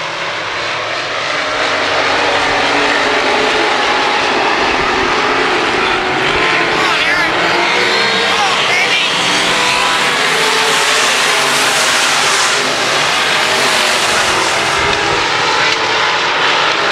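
Race cars run at Valley Speedway in a season-ending race, engines roaring loudly and continuously as they pass, with a voice talking over them.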